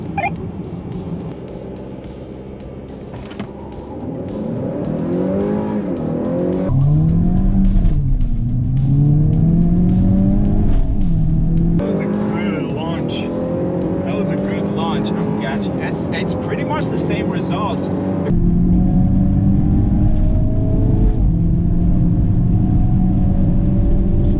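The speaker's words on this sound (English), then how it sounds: "the Mazda takes off because all-wheel drive, then I'm catching him towards the end" Engines roar as a Hyundai Kona N, an all-wheel-drive Mazda3 Turbo GT and a Honda Accord 2.0 accelerate hard in a drag race, pitch climbing through repeated gear shifts, loud and close, with people talking over the noise.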